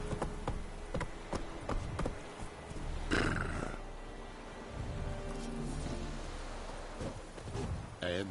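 Roach, the horse in the video game Witcher 3, galloping with a steady run of hoof beats amid ambient game noise, a whinny-like burst midway, moderately loud and continuous.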